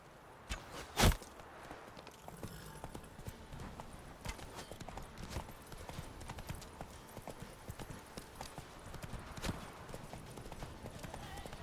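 Roach, the horse in The Witcher 3, clip-clops at a steady walking pace, the hoofbeats soft and even over quiet ambience, with one sharp loud hit near the start.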